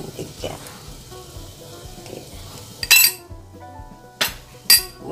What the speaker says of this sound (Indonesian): dan kita aduk